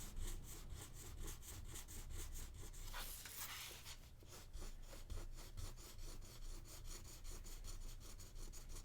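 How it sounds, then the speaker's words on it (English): A crayon is rubbed hard on paper in quick back-and-forth strokes, giving a close, rhythmic scratchy rasp that repeats steadily with a brief rougher flurry partway through. "I'm keeping all of these crayon motions close together"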